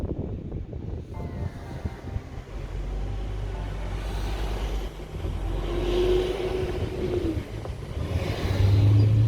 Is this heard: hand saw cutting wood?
no